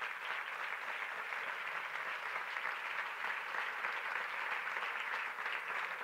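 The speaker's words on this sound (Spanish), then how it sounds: "Un fuertísimo aplauso por este." Steady, even applause from an audience at a Spanish women's basketball league season launch, continuous and fairly distant throughout with no speech over it.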